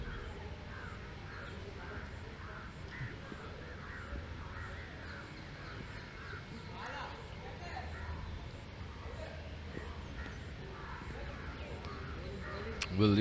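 Repeated crow caws around a school cricket ground during an under-19 match, a string of harsh calls at a moderate distance over steady outdoor noise, with commentators talking at times.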